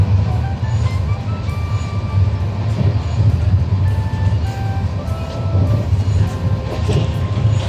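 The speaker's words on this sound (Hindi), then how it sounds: "तो ऐसे ट्रेन चलती रहती है" A moving passenger train leaving Lucknow rolls on with a continuous, loud, close rumble and faint wheel clatter, steady throughout with no talking.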